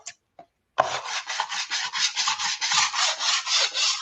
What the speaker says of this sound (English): I was just sanding